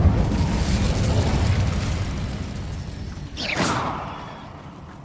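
Incendio fire spell cast in the video game Hogwarts Legacy: a roaring, whooshing fiery burst over a dense rumbling game soundscape, followed by a short rising swoosh near the end.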